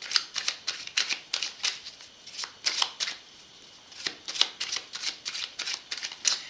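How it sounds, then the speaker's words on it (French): Tarot cards are shuffled by hand close up in a series of quick, crisp riffling bursts in an uneven rhythm, with short pauses between them and no talking. "je vais pousser les cartes"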